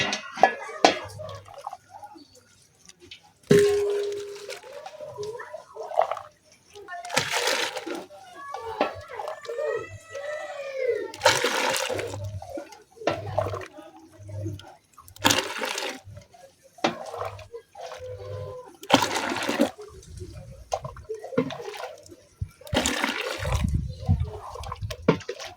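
Water is poured into a container in several separate pours to mix 5 liters for a herbal poultry remedy on a chicken farm, each splashing gush broken by short pauses, with voices now and then.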